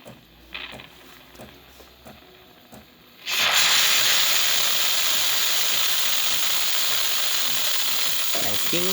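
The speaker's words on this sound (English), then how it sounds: "we'll still be able to see steam coming out through this spout" A Saeco espresso machine's steam wand hisses loudly and steadily through its spout after a few seconds of quieter mechanical clicking and rattling, the broadband steam rush continuing strongly to the end.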